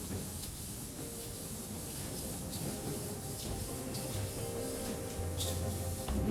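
An airbrush spraying a light base coat onto a Hayabusa motorcycle part gives a steady, even hiss that runs without a break, with faint background rumble and no talk.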